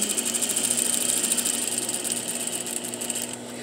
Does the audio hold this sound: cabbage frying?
no